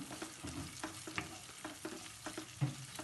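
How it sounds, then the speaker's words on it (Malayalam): Green chilli and curry leaves sauté in a pan, a soft, close sizzle broken by a series of spatula scrapes and stirring taps at an uneven rhythm, with no voices. "ഇനി ഇതിലേക്ക് കുറച്ച് കറിവേപ്പില ചേർത്ത് കൊടുക്കാം. എന്നിട്ട് വളരെ കുറച്ച് സമയം ഒന്ന് വഴറ്റിയെടുക്കാം."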